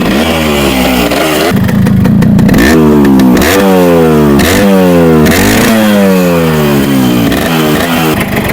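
A Japanese Yamaha RX 115 two-stroke motorcycle in fresh condition revs loudly up close. The engine blips up and down in repeated rising and falling sweeps with a rasping, buzzing exhaust, and no voices are heard over it.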